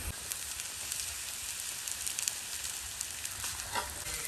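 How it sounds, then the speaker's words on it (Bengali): Garlic and onion frying in a pan for a jute-leaf dish, giving a steady close hiss of sizzling oil with occasional louder crackles and pops, alone without talk. "আম্মু এখানে রসুন পেঁয়াজ ভাজতেছে"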